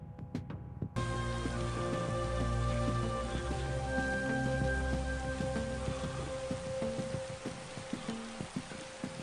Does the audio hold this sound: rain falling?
yes